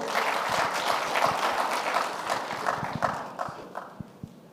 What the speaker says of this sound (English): So ladies and gentlemen, another round of applause for Ray Power.